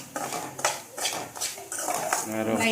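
A metal spoon scrapes and clinks against a pan while semolina (rava) is stirred and lightly roasted in oil for a white kesari, giving close, uneven rhythmic scraping strokes with a voice over it.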